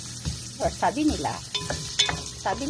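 Sautéed onions with ginger get stirred in a frying pan while cooking banana blossom, giving an ongoing sizzle broken by scraping strokes and a few light metallic clinks, up close with no talking.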